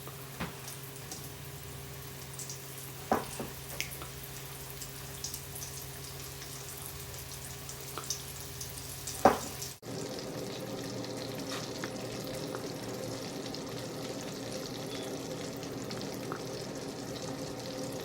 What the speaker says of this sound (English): It'll sizzle.